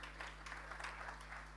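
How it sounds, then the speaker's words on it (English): Brief audience applause at a business panel event welcoming a bank's CTO and co-founder to the stage, a soft, fairly distant patter of clapping under a low steady hum. "A round of applause for him."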